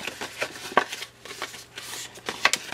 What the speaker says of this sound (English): cut down to the score line here, and then come over here and then cut all the way across